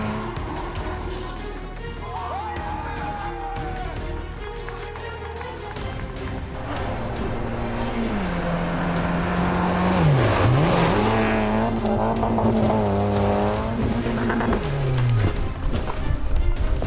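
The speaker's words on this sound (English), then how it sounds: "The car flies high off the jump, but the landing goes wrong." A rally car launches high off a jump and crash-lands, its engine loud and revving with pitch swings and rising intensity over a continuous roar, with crowd or commentary noise mixed underneath.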